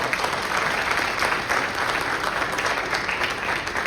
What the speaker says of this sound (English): All right, make some noise